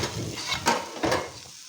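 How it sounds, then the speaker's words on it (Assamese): Potatoes frying in a pan, with a soft sizzling hiss under two quick scraping stirs from a utensil, heard close and alone over a brief moment. "বডি আলু ধুনীয়াকৈ ভাজি বনাইছোঁ, দেখিছেনে?"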